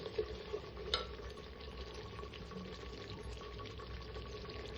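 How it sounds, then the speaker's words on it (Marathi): Basic spices are stirred together for mutton in a clay pot, heard as faint scraping and soft sizzling with a few brief clinks near the start. "सर्व बेसिक मसाले टाकल्यानंतर छान असं मिक्स करून घ्यायचं"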